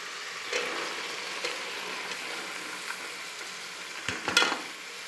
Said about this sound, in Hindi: अब मैं इसमें बेसिक सब्ज़ियाँ डालूँगी। ये आलू, मटर, गाजर, गोभी है